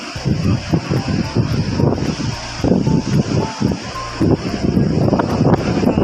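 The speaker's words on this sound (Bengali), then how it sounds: "পুরো পাহাড়টা এরকম গঙ্গা বইছে আওয়াজ শোনা যাচ্ছে" The Ganga runs through a mountain valley near Gangotri as a steady, broad rushing roar that is loud and continuous, with gusty surges and rustle on top.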